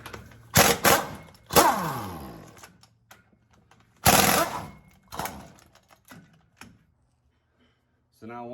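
Bolts being worked loose with a wrench on the rear axle of a 2001 Ford F350 dually with a 7.3, giving a few sharp metallic clanks and ratcheting bursts at irregular intervals, close up, with pauses between.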